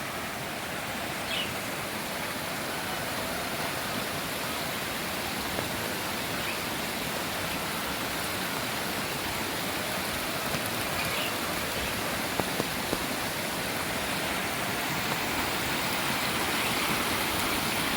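Rainwater flowing across a yard after heavy rain, a steady broadband rush of running water that stays even and close throughout, with no voices.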